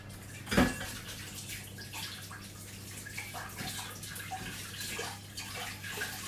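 Hands are rinsed of syrupy butter under a running kitchen tap, a soft continuous trickle of water with faint clinks and splashes, quiet and close with no talking.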